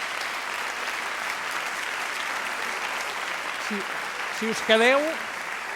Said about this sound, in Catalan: un gran aplaudiment per al Premi Gros d'aquesta nit